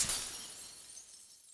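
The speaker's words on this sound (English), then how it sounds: "the sound of shattering glass echoes through my body" Glass-shattering effect from the visual novel Tsukihime, a single bright crash that decays quickly into a fading shimmer, heard alone.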